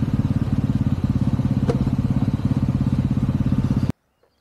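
An off-road motorcycle, ridden slowly by a fairly new rider, putters along at low revs with a steady, close engine pulse that cuts off abruptly near the end.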